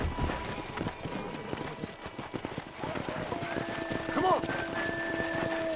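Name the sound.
galloping horses in the video game Red Dead Redemption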